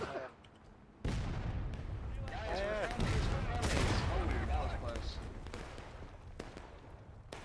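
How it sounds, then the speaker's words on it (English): Musket gunfire in the Civil War video game War of Brothers, a dense crackling volley of shots near and far with shouting voices mixed in, building and then easing off over several seconds. "He's even shooting at the hay bales, trying to get some kills here."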